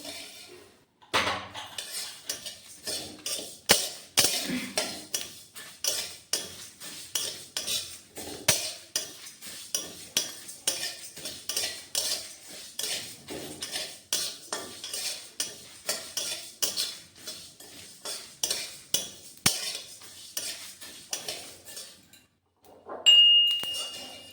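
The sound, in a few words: dry-roasting cumin and fenugreek in a pan, stirring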